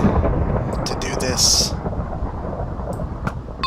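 Thunder rumbling during a thunderstorm in Minecraft, a low sustained roll with rain-like noise, heard under someone talking.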